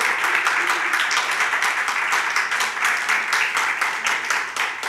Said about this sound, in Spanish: Denle un fuerte aplauso a Dios por su palabra. Vamos, déselo fuerte.